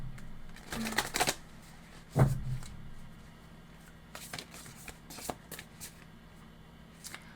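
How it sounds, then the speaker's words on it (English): A deck of tarot cards is shuffled in bursts of riffling and sliding, with a sharper snap near the middle and quieter shuffles continuing after, close and alone. "Let's do that one more time, and then we'll start shuffling."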